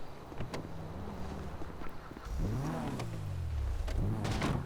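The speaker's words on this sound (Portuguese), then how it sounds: "Bora então pegar o carro." A Kuruma car in the video game GTA 5 driving off, engine revving up in rising and falling sweeps as it accelerates, moderately loud, with no talking.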